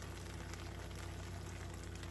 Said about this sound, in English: You can hear the sound when I pour the syrup in.